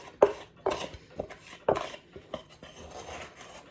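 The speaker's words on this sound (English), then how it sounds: "And this is where the little scoop comes in, because I have a lot of flour still in here. So scrape it all out of the bowl." A small scoop scrapes and knocks leftover flour out of a mixing bowl during bread making, giving several sharp clatters and scrapes in an uneven rhythm, close and fairly quiet, with no talk.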